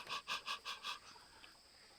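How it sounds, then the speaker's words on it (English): Olive the dog pants heavily in five quick rhythmic huffs up close, then settles into a quieter steady background. "Sorry about Olive's heavy breathing."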